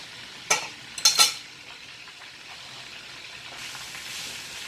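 Chicken frying in a pan for a fricassee, with a few sharp bursts of sizzle and stirring near the start, then a quieter steady hiss.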